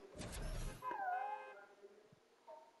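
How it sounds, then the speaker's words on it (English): A pet dog gives a short whimpering yip that bends in pitch, then a few softer whines trailing off. It is close and fairly quiet, and a burst of other noise comes just before. "That's my dog."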